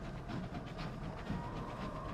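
A faint, steady rumble and rolling clatter of a train running in the video game Sunless Skies, with soft rhythmic pulses and a hissy wash throughout.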